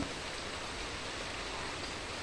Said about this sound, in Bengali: এই যে এখন বৃষ্টি পড়তেছে